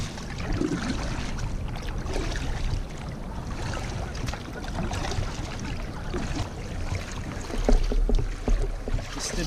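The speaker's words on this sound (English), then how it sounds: "I'm going to paddle this again a little bit." Hobie Passport kayak paddled on the ocean, with steady broadband water wash and splashing from the strokes, some wind noise, and a louder splash surge near the end.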